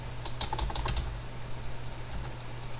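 Fast clicking of keys on a computer keyboard during a Garry's Mod session, a quick burst of close taps that then slows to a few light strokes over a steady electrical hum.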